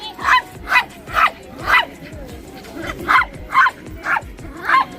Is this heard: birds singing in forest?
no